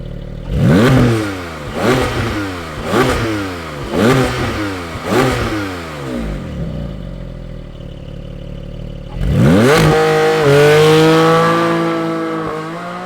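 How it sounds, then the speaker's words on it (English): Porsche Cayman GT4 PDK flat-six, heard close and loud: a series of sharp blips rising and falling in quick succession, a pause at rough idle, then a long high-pitched rev that climbs and holds before easing off. "Let's fire up this GT4 and hear what it sounds like."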